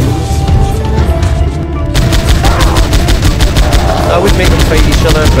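An M60 machine gun fires in a video game, rapid bursts rattling in a fast, even rhythm that starts after a brief lead-in and continues loud and close over background game sounds.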